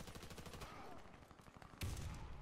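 Gunfire from a Truvelo CMS 20x42mm rifle in the Warface video game comes as a steady series of rhythmic shots, faint and low in level, with a heavier thump toward the end.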